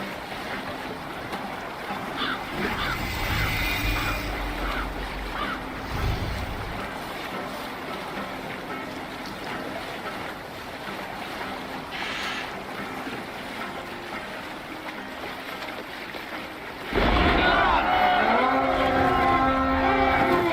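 A Viking longship sails the open sea in Assassin's Creed Valhalla, with steady wind and wave wash throughout. The water and creaking grow louder and fuller near the end.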